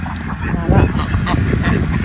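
Loud, busy honking and quacking from a group of ducks let out on a smallholding close by, overlapping calls continuing throughout.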